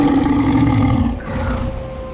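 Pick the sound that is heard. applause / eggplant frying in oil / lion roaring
lion roaring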